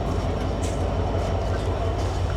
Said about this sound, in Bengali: ফাইনালি 7:40-এ আমাদের ট্রেন ছেড়ে দিছে